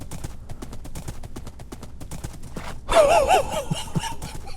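Hooves clip-clop in a fast, even rhythm as a horse gallops in Minecraft, then a breathy, snorting whinny cuts in over the continuing hoofbeats, close and fairly loud.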